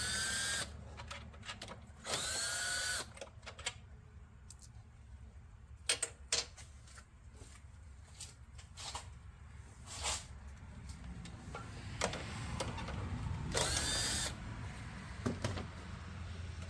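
Power tool on a 2008 Dodge Ram 6.7 diesel zips off engine top cover bolts in short whirring bursts, several separate runs spread apart with quiet gaps and small metallic clinks between them, close by.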